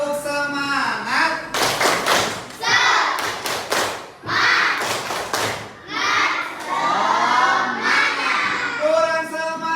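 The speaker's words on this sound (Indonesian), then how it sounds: "Kita tepuk semangat." Students in a classroom perform a rhythmic group clap, bursts of sharp claps in quick patterned sets alternating with children's loud chanted voices and shouting.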